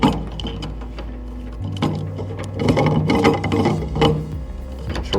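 A part being screwed back onto a Promax tabletop vacuum tumbler, with close plastic scraping, ratcheting clicks and mechanical rubbing over a low steady hum that drops off partway through.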